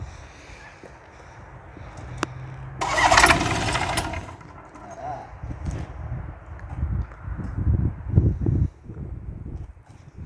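A Searey seaplane engine with no starter, coughing and sputtering through start attempts, with a burst of roaring revs and uneven low rumbling nearby.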